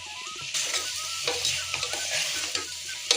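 Moong dal, dry-roasted earlier, being stirred together with vegetables and spices in a hot pan: a close, steady scraping sizzle with repeated spoon strokes and brief louder scrapes, no voices.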